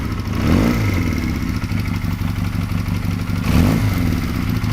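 A 2014 AJS NAC 12 125cc motorcycle engine runs at close range as a steady low mechanical drone, with two brief swells of revving around the first and fourth seconds.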